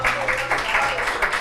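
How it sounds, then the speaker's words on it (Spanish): A church audience applauds children in a brief burst of dense, steady clapping that stays moderately loud throughout. "Un aplauso a los chicos."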